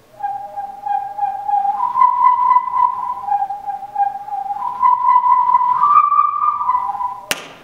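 Sustained electronic tones hum clearly, stepping up and down between several pitches, then end with a sharp click.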